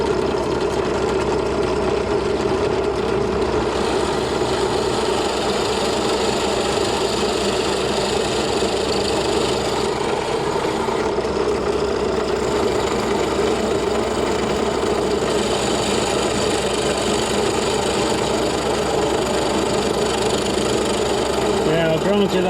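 Drill boring a pilot hole during a Jaguar MKII restoration, a steady loud whirring motor drone with faint grinding, lasting throughout with occasional speech.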